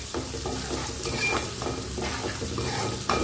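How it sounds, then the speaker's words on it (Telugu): Onions fry in oil in a pan while a spoon stirs them, giving a continuous sizzle broken by regular scraping strokes, close and fairly loud. "ఆనియన్ను లైట్గా బ్రౌనిష్ కలర్ వచ్చేంత వరకు మనం వేసుకోవాలి"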